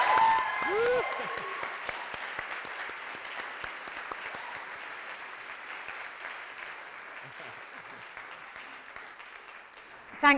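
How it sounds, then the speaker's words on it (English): Conference audience applauding a keynote speaker, dense even clapping from many hands that starts loud and gradually thins and fades, with a brief voice at the start. "So please give her a round of applause."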